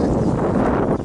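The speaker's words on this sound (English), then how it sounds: "it's warm out, but it's highly windy, as if you couldn't tell" Strong wind blows across the microphone outdoors on a warm day, a loud continuous rumbling buffet filling the whole short moment with no pause.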